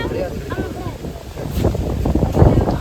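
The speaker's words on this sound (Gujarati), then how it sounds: "આજે પવન પણ બહુ છે બધું." Strong wind buffets the microphone outdoors at a Janmashtami gathering, with trees swaying nearby; a continuous low rumbling roar swells and gusts throughout, with faint voices in the background.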